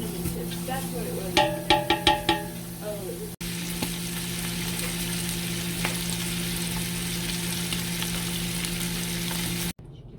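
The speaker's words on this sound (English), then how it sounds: "we're going to go ahead and render off the fat of this bacon here and use that to saute with" Bacon fries in a pot with a steady, loud sizzle as its fat renders, with a few short clinks near the start and a brief cut to silence near the end.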